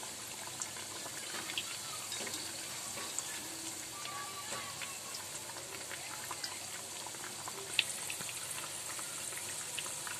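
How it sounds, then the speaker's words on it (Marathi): Dal vadas fry gently in oil over a low flame, a soft, steady bubbling sizzle with faint crackles, quiet and continuous. "तेल मंद आचेवर फ्राय करायचे आहेत"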